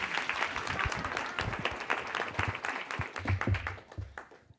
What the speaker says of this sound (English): Some applause for the dress,